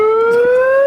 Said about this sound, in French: t'as l'alarme qui s'est déclenchée